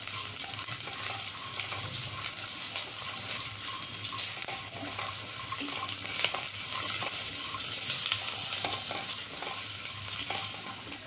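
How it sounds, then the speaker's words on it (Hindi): Potatoes and peanuts fry in ghee, a constant close sizzle broken by frequent scraping and stirring strokes of a spoon against the pan. "अब हम डाल देंगे मूंगफली और मूंगफली को भी भूनेंगे"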